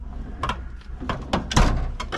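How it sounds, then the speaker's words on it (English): A workshop drawer full of bits and pieces is pulled open with a few short knocks and sliding rattles, close and fairly loud, with no talking. "In here I have got in one of my many drawers of bits and pieces"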